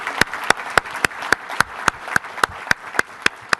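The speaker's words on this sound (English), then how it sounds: "big round of applause" Sparse, evenly spaced claps ring out at a large event venue, sharp single hand claps about three per second over a soft bed of crowd applause, fairly close and steady.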